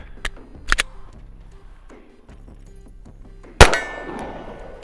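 An Arory RMU1 budget pistol red dot optic dropped onto steel gives sharp metallic clangs: two quick light impacts early on, then one loud ringing crash near the end that trails off.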